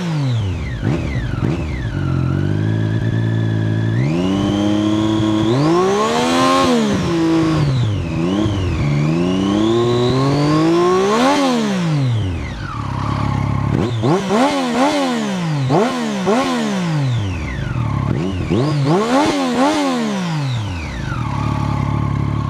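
A motorcycle fitted with an Arrow exhaust idles with a throbbing tick-over, then is revved repeatedly, each blip swelling loudly and falling back in pitch, close and with no talking.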